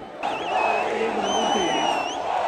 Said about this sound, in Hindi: लोग एनीवेज चिल्ला रहे.